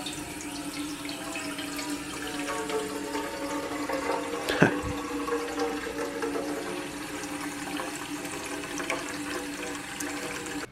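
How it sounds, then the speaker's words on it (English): Water runs steadily from a tap in a hotel room to fill a rice cooker, a constant hiss with a brief louder splash partway through. "gotta get some water into the rice cooker and get it boiling"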